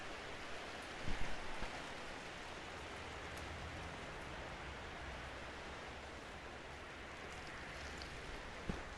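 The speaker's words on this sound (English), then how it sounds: "I don't know if you can hear the rain over the mic." Steady rain falls in a hiss across a horse-riding yard, constant and fairly faint, with a brief louder patter near the start and no voices.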